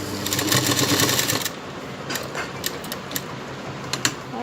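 An electric sewing machine stitches a blouse, running in a dense rapid burst, then stopping, followed by a few sharp mechanical clicks and short stitches, close by and loud with no talking.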